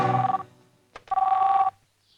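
A telephone rings in an indoor scene of a South Indian action film, two loud electronic ring bursts separated by a brief gap, sounding alone with no talk.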